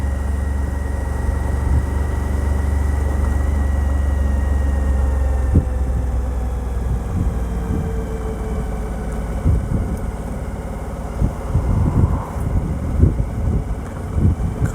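A Suzuki V-Strom 1000 motorcycle cruises in third gear at about 40 km/h with a neutral-map throttle mod, giving a steady low engine drone under wind buffeting, with scattered bumps and thumps later on.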